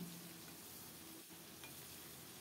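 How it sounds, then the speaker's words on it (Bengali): Continuous hissing sizzle of small pieces of rohu fish frying in oil, steady and fairly quiet, with faint stirring noises. "এখন নেড়ে চেড়ে এপিট ওপিট একেবারে লাল লাল করে ভেজে নেব।"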